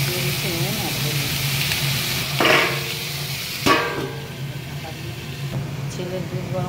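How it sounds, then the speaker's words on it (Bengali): Green chilli, potato, pumpkin and ridge gourd frying in hot oil in a home kitchen, a steady soft sizzle with a couple of sharp clatters of utensils, while someone talks over it. "তেলের মধ্যে দিয়ে দিলাম কাঁচা লঙ্কা, আর এবার আলু, কুমড়ো, ঝিঙে, ছোলা দিয়ে দিয়ে দিচ্ছি নুন আর হলুদ।"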